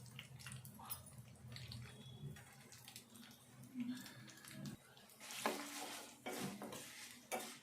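A tempering of garlic, dried red chillies and curry leaves sizzles in a pan while a utensil stirs and scrapes it, close and steady. A voice speaks faintly underneath.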